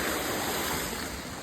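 A steady, full roar of rushing water pouring down, loud and continuous without a break, like a waterfall close by.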